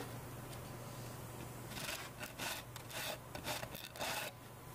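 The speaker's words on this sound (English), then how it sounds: "We'll end up using a sanding block just to clean up that edge a little bit" Faint scraping strokes of a sanding block rubbing along the top edge of a CNC-cut wooden shelf part, a handful of short rasping passes over a low steady hum.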